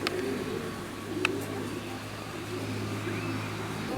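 A young racing pigeon, just back from a 1000 km race, coos in a low, steady murmur close by. A faint click and distant traffic sound in the background, and no one speaks.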